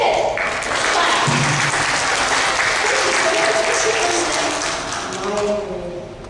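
Congregation applause at an 11am church service, a loud, steady wash of many hands clapping that continues throughout and fades slightly at the end, with a voice briefly speaking over it.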